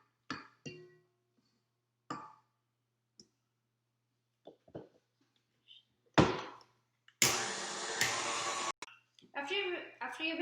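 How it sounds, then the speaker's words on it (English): An electric mixer whips cream into butter in a kitchen: scattered clicks and taps, then a loud whirring burst of about a second and a half, followed by more busy clattering sounds. "we need to scrape it once more and keep on mixing it until you see a good amount of separation"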